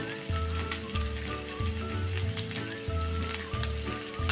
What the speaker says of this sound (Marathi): आणि आता हा आपण एकसारखा परतून घेऊया